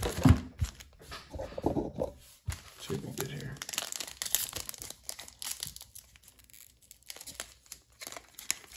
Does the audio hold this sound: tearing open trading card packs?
yes